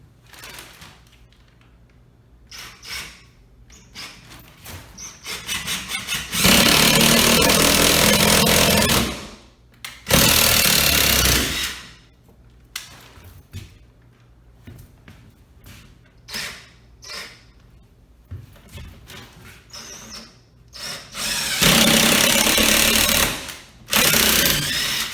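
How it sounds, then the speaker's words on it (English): Lag screws driven into a wall by a power drill to mount a flat-screen TV bracket: loud bursts of drilling, three sustained runs with a stop-start pause, mixed with clattering handling noises between them. "I'm going to go ahead and get the lag screw started in both of these"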